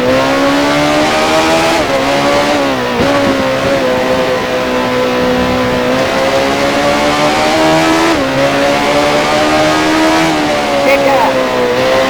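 A 1979-era Formula 1 car in the F1 Challenge racing game at Monza howls at steady high revs while entering the pit lane, its engine note shifting slightly up and down with a few gear changes, loud and continuous.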